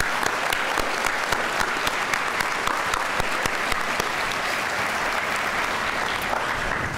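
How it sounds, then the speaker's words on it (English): Audience at a science fair opening ceremony giving a round of applause, steady dense clapping from a large group that holds evenly for several seconds, fairly near and alone without talk. "I want to give you all a round of applause"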